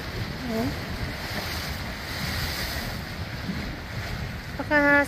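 Ocean waves washing ashore at John Smith's Bay, Bermuda, a steady broad roar of surf with wind buffeting the microphone, a brief voice near the start and end.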